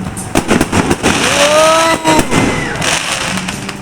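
Fireworks exploding at night, a series of sharp bangs and crackles in quick succession with a whistling rise in the middle, fairly close and loud.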